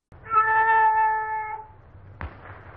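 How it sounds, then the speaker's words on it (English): A cat meows from behind a wall in a 1930s film, one long, clear, drawn-out meow followed by a short thump. "someone finally cues up the cat behind the wall"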